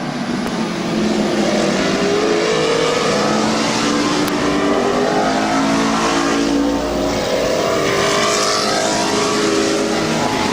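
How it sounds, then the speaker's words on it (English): Stock race cars roar around the oval at Midvale Speedway, their engines forming a loud continuous drone that swells and fades as cars pass, heard from trackside. "Randy Smart in the 17 car challenges him"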